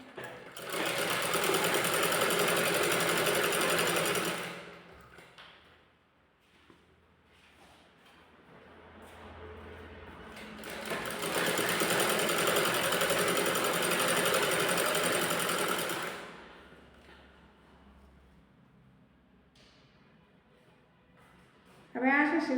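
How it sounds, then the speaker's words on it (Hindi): A sewing machine stitches a net-fabric kurti along the neck design. It runs in two long, steady, loud bursts, with a person talking during the quieter gap between them. "अब इस तरह से सिलते हुए हम कमर तक ले जाएंगे।"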